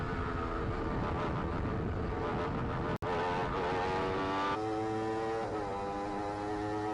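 Race cars lapping the Grobnik circuit in Croatia, with loud continuous engine roar and shifting pitches as cars pass close by, a brief dropout midway, engine tones rising and falling throughout.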